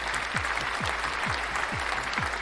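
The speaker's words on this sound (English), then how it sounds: "We got a round of applause." Steady applause from a crowd fills the clip with continuous dense clapping, alongside a low rhythmic thumping pulse about twice a second.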